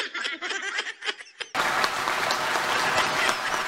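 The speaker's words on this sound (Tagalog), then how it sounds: "Grabing palakpak yun, ha?" Dense applause from a crowd starts abruptly and holds steady at full strength, following a stretch of speech with a few laughs.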